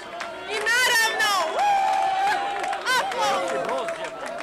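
Premiere crowd for the film Zlatne čaklje in Podgorica: a loud, continuous wash of clapping and cheering with whistles, voices calling out over it throughout.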